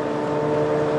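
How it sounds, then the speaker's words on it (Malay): Mazda RX-8 rotary engine idling, a steady, continuous drone with a strong low hum and even tone throughout, close and fairly loud with no voices. "bunyi ala-ala je, tapi kita tahu itu bunyi rotary."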